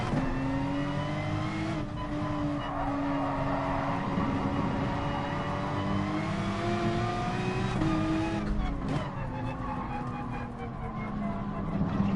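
Race car engine in Gran Turismo Sport, a loud, sustained whine rising and falling with shifts and throttle changes, some tire squeal as the car slides sideways, with no clear talk.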